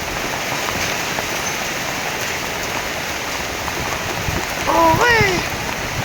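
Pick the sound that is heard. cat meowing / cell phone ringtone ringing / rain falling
rain falling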